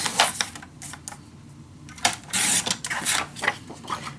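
Paper being cut for a handmade mini album from an art paper collection, a series of close, sharp clicks and snips from a trimmer or cutter in irregular bursts, with no speech.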